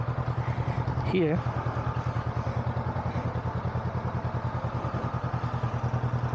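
A motorcycle engine idles close by with a steady, rapid pulsing throb throughout, while someone speaks briefly over it.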